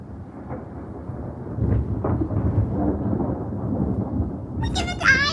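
Thunder rumbles through a rainstorm, a loud low roll building and sustaining over steady rain, with people talking and exclaiming nearby toward the end.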